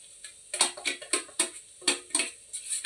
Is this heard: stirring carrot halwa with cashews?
yes